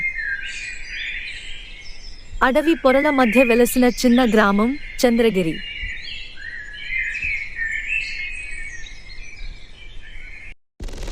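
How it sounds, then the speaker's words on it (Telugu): Koels call at dawn among the trees, repeated bright chirps and whistles carrying on over most of the stretch beneath a narrator's voice. "తెల్లవారుజాము కోయిలల కూకలు"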